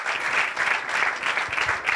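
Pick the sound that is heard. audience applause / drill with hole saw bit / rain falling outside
audience applause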